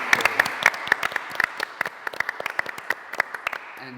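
An audience claps at a fashion panel discussion for a Stefan Cooke Spring/Summer 2020 collection, with steady, moderately loud applause running through the whole stretch and no talking.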